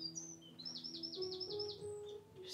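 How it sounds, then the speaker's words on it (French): Countryside birds sing outdoors in a quick run of bright, repeated chirping notes, close and clear, over a soft hum of background tones. "Je ne sais pas si vous entendez les oiseaux derrière."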